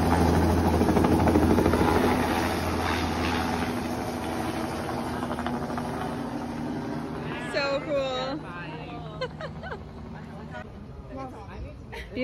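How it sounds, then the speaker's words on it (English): A helicopter taking off in Rio de Janeiro, its engine and rotor droning loudly nearby, then easing off as people start talking over the fading noise. "Running to see the helicopter take off."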